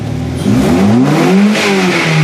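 A Ford Fusion engine revs hard toward redline, its pitch climbing steadily, dipping briefly, then rising again as it is held near the limit; loud and close, with no voices.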